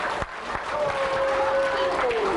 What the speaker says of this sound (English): we should give the fire department a nice round of applause today for bringing the show here